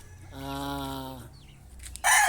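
A Bulik gamecock rooster crows once, close and loud, a drawn-out harmonic call followed by a brief scrape and a burst of noise at the end.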